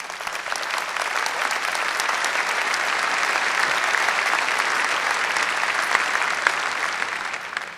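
An audience at a 2009 university freshman convocation gives steady, sustained applause, dense and even from start to finish.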